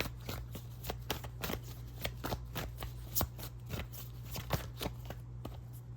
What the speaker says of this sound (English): I kind of want to shuffle the tarot and see what this is about